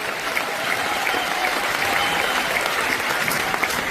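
Audience at a large Indian business seminar hall applauding together, a dense, steady wash of many clapping hands that continues evenly throughout.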